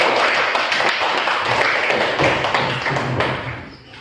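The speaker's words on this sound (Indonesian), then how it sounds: "kasih aplaus dulu untuk kelompok B." Group B gets a round of applause in a classroom: dense, continuous clapping from many hands for about four seconds, fading toward the end.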